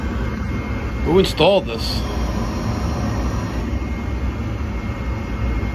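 Steady broadband whoosh of a Rheem water heater's blower running indoors, continuous and fairly loud, with people talking briefly over it near the start.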